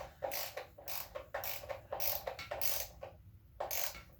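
A ratchet tightens bolts on a Quad 4 engine timing cover in a rapid series of close clicking strokes, about eight bursts in quick rhythm with brief pauses between them.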